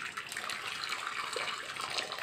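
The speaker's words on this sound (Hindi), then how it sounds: "अब हम लोहे की कढ़ाई में गर्म पानी डाल देंगे।" Hot water is poured into an iron kadhai while chole is being cooked, giving a continuous bright splashing trickle at moderate level with no voices over it.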